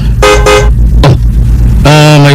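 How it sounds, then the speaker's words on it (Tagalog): Car horn honking loudly up close: two short toots, a brief pause, then a longer sustained blast over steady engine rumble, heard in a Bisaya drama scene outside. "May busina na sa sakinan."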